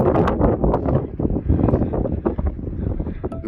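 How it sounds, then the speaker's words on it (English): Strong gusting wind on an exposed mountain ridge at Glencoe in the Scottish Highlands, a loud, continuous roar buffeting the microphone with no pauses. "The wind's coming from behind me at this moment."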